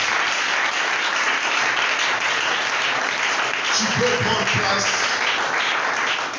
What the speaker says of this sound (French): Acclame très fort Jésus-Christ de Nazareth